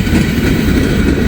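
Railroad cars rumble by near the New Miami yard outside Hamilton, Ohio, a brief, loud, steady roar of a passing train close at hand.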